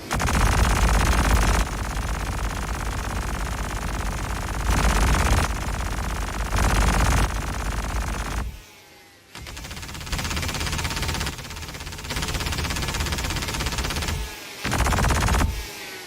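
Gatling guns on a Hornet ship in Star Citizen fire in long continuous bursts of dense, harsh rattling, starting and stopping several times with short gaps between volleys.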